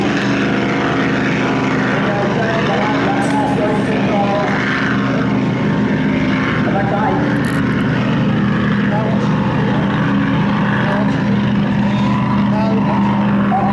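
A steady, loud engine drone runs throughout without a break, a racing powerboat warming up on a river at Taree, heard at some distance over open air.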